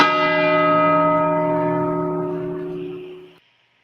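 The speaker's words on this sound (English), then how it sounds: "What the fuck was up with the gong?" A single struck gong rings out alone, a bright metallic tone with long sustained harmonics that slowly decays over about three seconds before cutting off.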